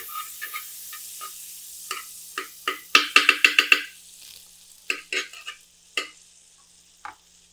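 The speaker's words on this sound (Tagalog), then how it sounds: "tayo mag-umpisa na mag-gisa. Gagamit tayo na ngayon ng star margarine para malinamlam yung ating chop suey" Pork liver and vegetables stirred in melting Star margarine in a pan for chop suey, with quick clacking spatula strokes, a fast burst of rhythmic stirring in the middle, and a soft sizzle underneath, close and with no talk.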